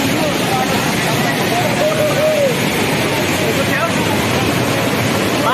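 Water crashes steadily at Panchakanya waterfall in a loud, continuous roar with wind buffeting the microphone, as faint whistling and voices come and go in the background.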